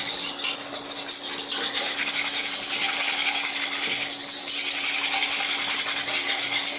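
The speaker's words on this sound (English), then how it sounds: "So we have to whisk this mixture now." A whisk beats a pasta cheese sauce mixture in a pot, producing a continuous, rhythmic scraping and swishing close up, steady and fairly loud throughout.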